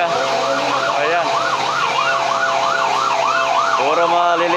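Fire truck siren wailing in steady repeated rising and falling sweeps, loud and continuous, near a burning textile and merchandise warehouse on narrow streets in Baclaran; faint voices underneath.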